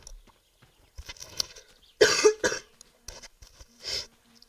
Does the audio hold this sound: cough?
yes